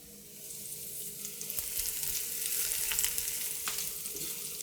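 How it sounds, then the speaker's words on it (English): Garlic hitting hot oil in a pan, a bright close sizzle that swells and holds steady, with faint stirring ticks and no voices. "so I'm going to add the garlic in"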